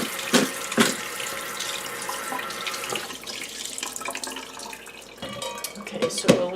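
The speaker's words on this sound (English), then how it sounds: "you just want to run a little cold water on them, just to try to cool them down a little bit" Cold tap water runs steadily over freshly boiled potatoes in a kitchen sink, a continuous splashing stream with a few louder clanks and knocks of the pot or colander near the start and end.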